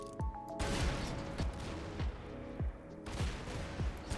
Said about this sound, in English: I'm going to spawn a bunch of explosive barrels to see if we can really just completely destroy the rest of this.